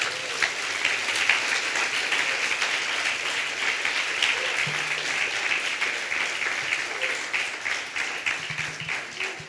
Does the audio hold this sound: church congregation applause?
yes